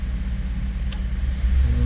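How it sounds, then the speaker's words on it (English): A 2011 Ford F-150 with the 5.0 engine idles rough with a misfire, a loud close low rumble that pulses unevenly and swells near the end, with no talking. "the truck starts. It runs like it has a misfire"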